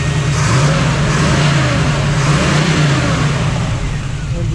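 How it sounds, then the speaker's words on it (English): A 1967 Camaro convertible restomod engine revs steadily up close, a loud, continuous mid-pitched roar from the exhaust that holds nearly level throughout with no talk over it. "Just go ahead and rev it up just a little bit here."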